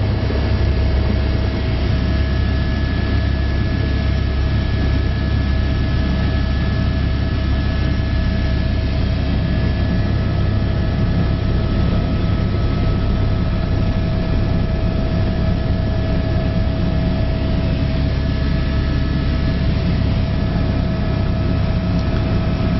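A sightseeing helicopter climbs out of Juneau, Alaska, bound for the Mendenhall Glacier. Its rotor and turbine make a loud, steady cabin drone with a constant hum that runs unbroken and close throughout, with no talk.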